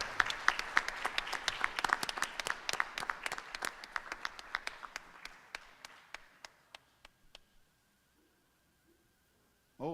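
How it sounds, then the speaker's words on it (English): An audience at a board of education meeting claps in a sustained round of applause, strong at first and gradually thinning to a few scattered claps before fading into near silence. "Let's give them a big round of applause."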